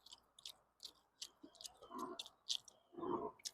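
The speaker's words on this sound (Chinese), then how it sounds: "大口吃牛肉" Someone chewing big mouthfuls of beef stir-fried with dried tofu, close and wet, with irregular bites and smacking over several seconds, louder bursts near the end, no talking.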